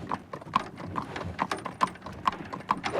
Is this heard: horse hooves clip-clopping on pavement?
yes